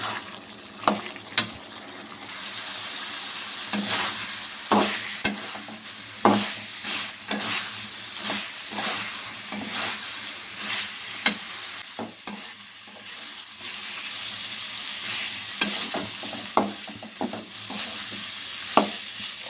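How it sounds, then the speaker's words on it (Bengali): Softened potatoes and onions sautéing in a pan for an egg curry, a constant frying sizzle punctuated by regular sharp clicks and scrapes of the spoon being stirred. "আলু পেঁয়াজটা আমি ভালো করে গলিয়ে নিয়েছি, এবার কষে নেব।"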